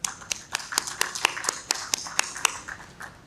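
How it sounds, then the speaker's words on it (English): Applause at a banking summit: fairly quiet, evenly spaced claps that keep a quick, regular rhythm for a few seconds and sound like only a handful of hands, with no talking. "A round of applause for them"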